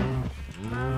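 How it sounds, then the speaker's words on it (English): Cows in Minecraft let out a loud, close moo that dips midway and then swells again, heard on its own with no talk. "God, these cows are loud."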